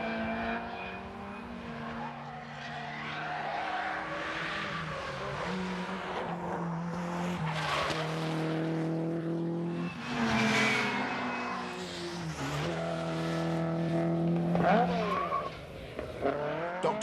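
A rally car, including an Escort, thrashes along loose gravel on a Scottish rally stage, engine revving hard and rising through gears with skids and tyre scrabble, loud and continuous; a faint voice is heard now and then.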